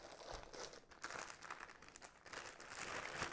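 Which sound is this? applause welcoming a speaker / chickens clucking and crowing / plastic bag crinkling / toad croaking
plastic bag crinkling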